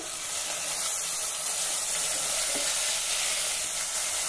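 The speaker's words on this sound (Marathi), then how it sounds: "हा टोमॅटो जरा मऊ होईपर्यंत आपण परतून घेऊ।" Tomato with curry leaves, turmeric and a pinch of asafoetida sautés in a pan, giving a loud, continuous sizzling hiss that holds evenly throughout with no voices.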